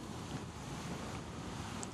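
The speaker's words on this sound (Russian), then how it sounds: "посмотрите, насколько сильный тут ветер" Strong wind buffets an outdoor microphone beside a road during an elite men's individual time trial at a road cycling championship, a steady loud broadband roar filling the whole moment with no speech.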